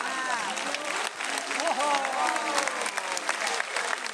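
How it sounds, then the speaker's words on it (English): An audience at a concert in Plovdiv, Bulgaria, claps and cheers in a dense, steady wave, loud and continuous for a few seconds, with voices shouting inside the crowd noise. "Big applause to Dima."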